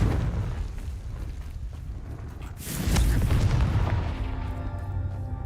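A blasting-spell explosion in a video game, a deep booming burst that swells midway through a dense, rumbling low roar and then settles into a steady drone.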